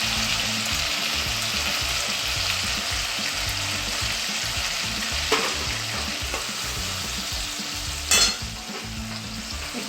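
A paste of cumin, coriander, chili and ginger fries and sizzles loudly in a pan with a steady, close hiss, and occasional scrapes and stirring clatter are heard.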